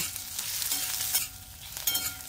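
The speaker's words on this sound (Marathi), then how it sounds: "2 मध्यम आकाराचे कांदे तांबूस रंगावर भाजूया." Two medium onions frying in a pan to a reddish-brown for a Marathi bitter gourd (karela) vegetable dish, with a steady hiss of sizzling and a few louder stirring scrapes, close up, no talk.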